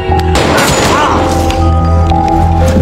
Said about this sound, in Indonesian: Dengan beberapa kali tembakan, Jae-kyung kemudian membunuh orang yang sudah pernah mengkhianatinya itu